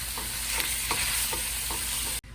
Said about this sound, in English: While that ground beef is browning